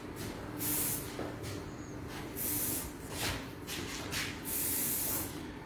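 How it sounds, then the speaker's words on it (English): Swella hairspray sprayed onto hair in several short hissing bursts, about five spritzes of varying length separated by brief pauses, close and fairly quiet. "I'm just going to use a little bit of this Swella hairspray"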